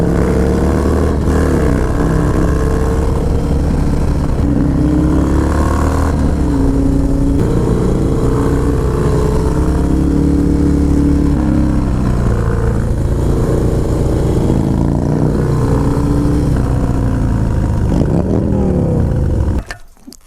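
A Harley-Davidson Low Rider S FXDLS club-style Dyna runs loud and close, its V-twin rumbling and rising and falling through gears and revs for about twenty seconds before cutting off abruptly.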